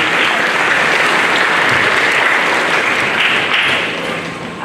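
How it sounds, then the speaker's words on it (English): Audience applause for teachers at a school Model UN event, a dense, steady roar of many hands clapping that stays loud throughout and eases slightly at the end. "give a big round of applause to your teachers as well"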